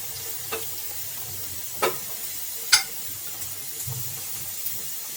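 Garlic, dried red chilies and curry leaves sizzle in hot tempering oil for Andhra-style pappu charu, a soft steady crackle with a few sharp spatula taps, close and without talk.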